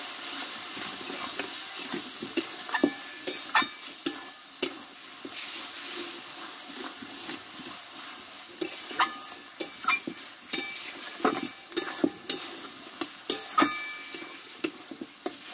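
Spice masala with chopped coriander leaves being stir-fried in a pan for a chicken curry, a soft continuous sizzle and hiss broken by scraping, clattering stirring strokes at an irregular pace, heard alone without talk.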